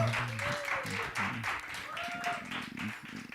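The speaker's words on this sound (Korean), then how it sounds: "다시 한번 박수 한번 쳐주시죠." Church congregation claps during a Wednesday worship service, a moderate round of applause heard fairly faintly beneath a speaking voice for much of its length.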